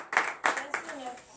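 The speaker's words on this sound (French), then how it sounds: "Donnez l'acclamation de Seigneur." Hands clap three times in quick, close succession during a morning church prayer service.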